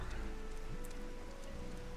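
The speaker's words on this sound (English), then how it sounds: "on this rainy day here." Steady rain patters in the Final Fantasy XIV game world, a continuous dense wash of falling drops with no breaks and no other sounds.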